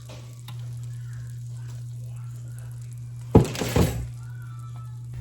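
Butter and flour cook in a pan with a faint steady sizzle under a low hum, broken by a short burst of louder clattering and stirring near the end.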